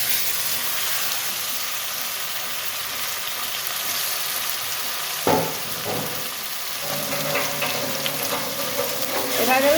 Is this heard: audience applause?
no